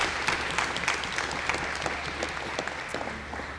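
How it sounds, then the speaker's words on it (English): Steady audience applause fills the room at a student gubernatorial candidate debate, dense sustained clapping with no voices rising above it. "let's give a hand clap for the good television program there."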